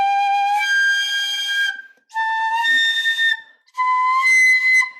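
A shinobue bamboo flute sounds three loud, piercing high-octave Kan'on notes, each held about a second with brief gaps between, clear and solo.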